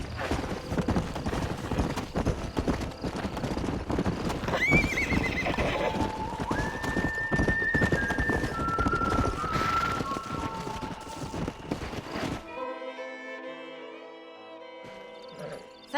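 A horse in the Red Dead Redemption video game whinnies loudly and repeatedly over busy clip-clopping hooves, the calls rising and falling, before the noise gives way to a quieter tonal passage.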